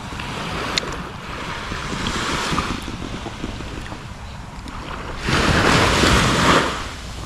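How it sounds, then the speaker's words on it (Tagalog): Ocean waves at Nelson Bay, New South Wales surge and wash onshore in broad, rushing swells amid gusty wind noise, with the loudest crash toward the end. "Ugong ng alon pag umahampas na sa dalampasigan."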